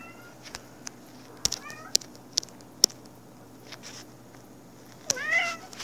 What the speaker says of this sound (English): my cat is in here.